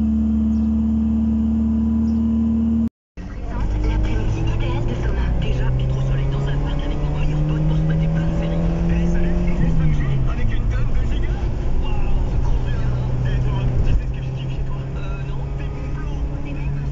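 A 1984 Toyota Celica ST engine runs after a cold start with the choke pulled fully out, a steady close idle with a brief cut near the start, then slowly shifting pitch as it settles.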